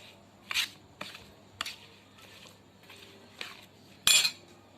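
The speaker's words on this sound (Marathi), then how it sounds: "आता आपण सरळ कैरी उचलायची आणि मसाल्यात टाकायची की लोणचं तयार." Pieces of raw mango are dropped into pickle masala in a metal bowl, giving several separate clinks and scrapes of a spoon against the dish, close and fairly quiet, the last one the loudest.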